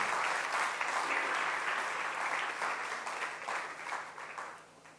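A church congregation at a Restored Generation campus in Argentina applauds loudly, a full, sustained roar of clapping that holds steady and then thins out toward the end.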